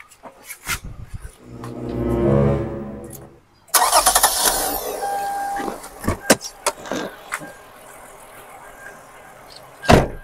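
A car engine cranks for about three seconds and catches abruptly into a loud running idle, followed by scattered clunks and knocks, with voices heard faintly around it.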